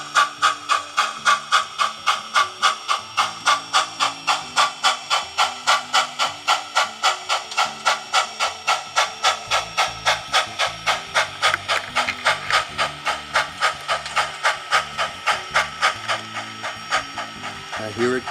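A model railroad steam locomotive coasting downgrade and slowing on its own, with a rapid rhythmic hissing chuff pattern that continues steadily and gradually eases, close and fairly loud.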